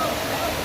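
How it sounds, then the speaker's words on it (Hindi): Neela Sandh waterfall in Islamabad pours downward with a steady, broad rushing roar of water heard close and loud throughout. "ये आबशार है जो नीचे की तरफ जा रही है"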